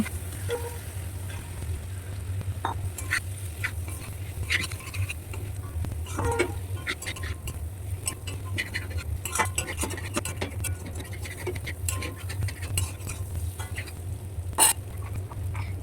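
Spice paste for bitter gourd shukto stirred and fried in a pan, a steady low sizzle under a scattering of scraping spoon ticks and taps, close and continuous.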